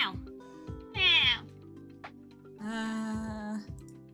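A cat meows several times in short, clear, rising calls close to the microphone, broken by quiet gaps and mixed with a person speaking.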